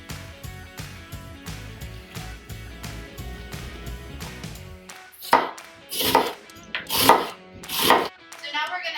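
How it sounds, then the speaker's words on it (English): Rapid, rhythmic knife chopping of half a white onion on a board for several seconds over background music, then a few louder, slower thuds and clatters. "we are going to chop up half of a white onion"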